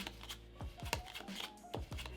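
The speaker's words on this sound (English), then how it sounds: "Now if you want to give it that false shuffle we talked about earlier." A deck of playing cards is riffled and squared in a false shuffle, producing quick crisp flicks and snapping bursts in a rapid irregular rhythm, close to the microphone, with no talking.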